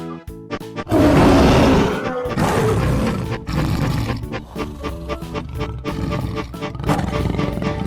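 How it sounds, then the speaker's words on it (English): A lion roars in several loud, rough, guttural bursts, with a voice talking over parts of it. "Lion."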